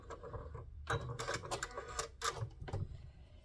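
A sewing machine stitches fabric for a maple leaf garden flag along a quarter-inch seam, running in short mechanical bursts of rapid needle clatter separated by brief pauses, fairly quiet and close.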